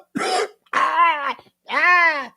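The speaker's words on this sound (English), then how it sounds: "Oh, more coughing." A person coughs or clears their throat in three separate rough, voiced bursts, each lasting about half a second and separated by short pauses, close and fairly loud.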